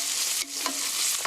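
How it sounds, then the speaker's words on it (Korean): Meat stir-fried in a pan for a mapo tofu rice bowl, giving a short, loud, bright sizzle with a brief dip in the middle as the pieces are stirred. "고기가 하얗게 될 때까지 볶아주세요."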